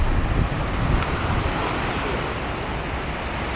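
Sea waves breaking at the beach beside the Hassan II Mosque on the coast, a steady loud wash of surf mixed with wind noise, no talking.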